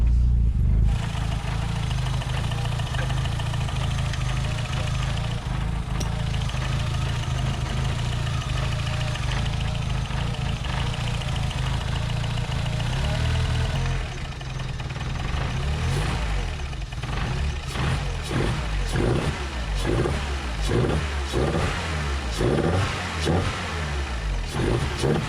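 A semi-forged 3.0 engine fires up for its first start and settles into a steady, loud idle, then near the end breaks into a series of sharp revs rising and falling.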